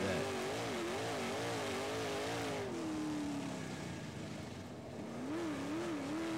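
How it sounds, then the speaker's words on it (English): A dirt late model race car brakes and gets back on the gas, its engine pitch wavering up and down, dropping, then climbing again, loud and continuous with broad roaring noise. "Listen to him brake on the gas, brake. You can hear him setting the car."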